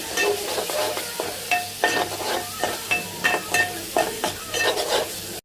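Ginger garlic paste sautés in a pan for a spicy Maharashtrian katachi amti, a soft sizzle under repeated scraping stirs and utensil knocks in an irregular rhythm, no speech.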